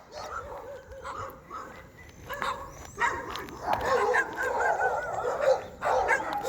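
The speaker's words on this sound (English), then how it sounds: "Street dogs." Street dogs in a new residential neighborhood bark and yip repeatedly from a moderate distance, the barks growing busier and louder toward the end, with faint voices in the background.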